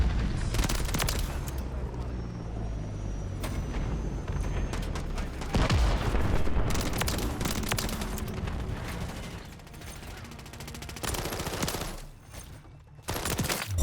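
Rapid bursts of automatic gunfire and crackling shots fill Modern Warfare 3 combat, dense and loud, with explosive booms and a brief lull near the end.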